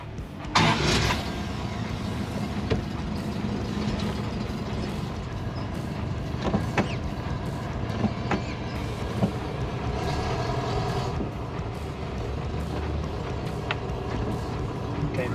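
A Subaru Brat with a newly installed 2-inch lift is out on a test drive, its engine and road noise droning steadily from inside the cab. There are occasional knocks and rattles, plus a brief louder burst near the start.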